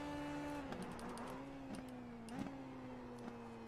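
Simulated Indy Pro 2000 race car in iRacing, engine droning in a steady whine with its pitch sliding down as it brakes. Faint tyre scrub and small clicks mark a brief wheel lock-up, and nobody speaks.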